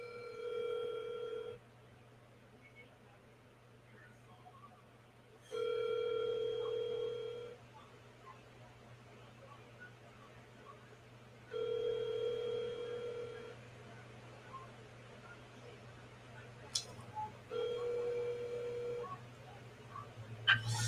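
A telephone rings in a regular cycle of tones, each lasting about two seconds with longer pauses between. The rings are faint over a low steady hum and soft background noise.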